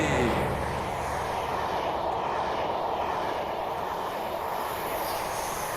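A train passing in the game Train Simulator Classic, a broad steady rushing roar with a low rumble that holds evenly across the passage, loud and continuous.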